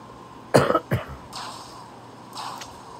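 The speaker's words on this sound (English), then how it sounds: "I'm sorry about the cough" Two sharp coughs close to the microphone, followed by quieter breathy sounds against a low background hum.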